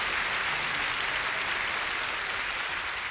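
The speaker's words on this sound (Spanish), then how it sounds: "Entonces aplaudan a Jesús." An audience at a live faith show applauds steadily, a dense, even wash of clapping that holds at constant loudness throughout with no voices on top.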